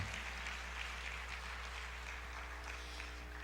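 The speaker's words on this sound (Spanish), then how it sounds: "Aplauda al Cristo de la gloria." A church congregation applauds during a Spanish-language sermon, a dense, steady patter of many hands clapping together with a low hum underneath, continuous and moderately loud.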